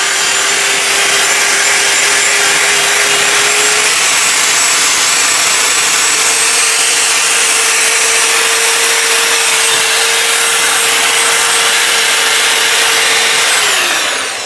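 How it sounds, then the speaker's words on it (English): A loud, continuous abrasive whir of a drill-mounted wire wheel stripping flaky rust from old car metal, steady for the whole stretch before spinning down at the end. "what we're going to do is hit it with the wire wheel in a drill"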